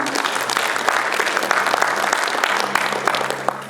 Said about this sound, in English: Let's give our panelists a great round of applause this evening.